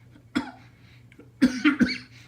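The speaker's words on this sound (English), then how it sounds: "Sorry, I got a cough today." Three or four sharp coughs, one alone and then a quick cluster of three, close to the microphone over a low steady hum in a woodshop.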